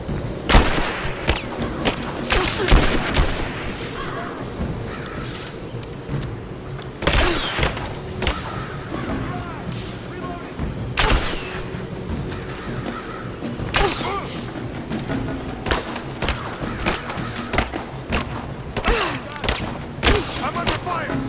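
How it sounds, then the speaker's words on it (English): Gunfire in the video game Rise of the Tomb Raider: repeated loud rifle shots and thudding impacts come in bursts, near and echoing across a combat scene, with shouted voices now and then between the volleys. "I'm under fire!"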